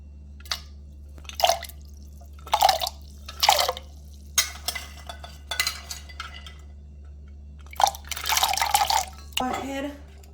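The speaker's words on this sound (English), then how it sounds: "Then I'm gonna go right ahead and add my coconut" Coconut is added to water in a blender for Jamaican saltfish rundung, giving a series of short wet drips, splashes and light clinks in irregular bursts over a low steady hum.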